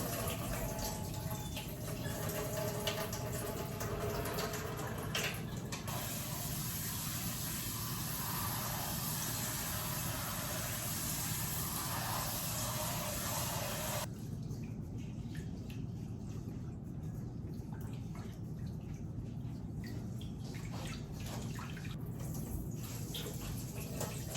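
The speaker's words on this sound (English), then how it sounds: "Now I've poured most of that water off." Water pours and splashes into a pot of red beans being rinsed, a steady rushing hiss that shifts to a duller, quieter flow partway through, close by and without talk.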